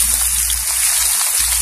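Onions dropped into hot oil for spicy aloo gobhi, a brief, steady hissing sizzle heard close up with no talking.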